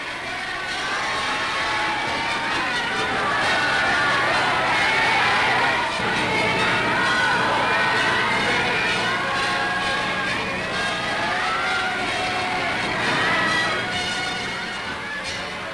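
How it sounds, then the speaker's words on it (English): Large crowd cheering and shouting in city streets of Oslo at the 1945 liberation from German occupation, a dense continuous roar of many voices with whoops and children's shouts, steady and loud throughout. "Crowds filled the streets waving flags"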